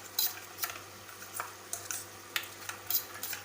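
A spoon stirs curd, coriander powder, turmeric and garam masala together for a paneer gravy, giving soft irregular scrapes and light clinks, close but quiet, no talk.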